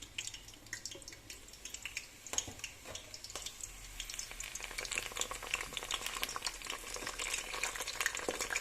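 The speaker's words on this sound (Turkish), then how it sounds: "ben yağda kızartacağım" Crackling, popping sizzle of eggplant frying in hot oil, steady and close, with occasional sharper spits and no voices.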